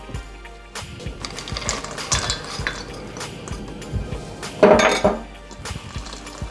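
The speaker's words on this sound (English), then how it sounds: "Finish the stirring." A spoon scrapes and clinks against a bowl while stirring blueberry oatmeal batter, giving irregular close knocks and scrapes with one louder clatter midway.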